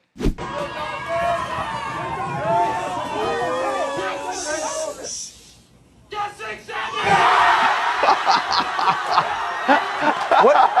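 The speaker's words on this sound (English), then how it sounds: "Why is everyone cheering around just waiting for this 67th order?" A group of kids waiting for an order at an In-N-Out burger restaurant breaks into loud cheering and whooping, first a rising chorus of excited voices, a brief hush, then a second noisy burst of shouting, clapping and laughter.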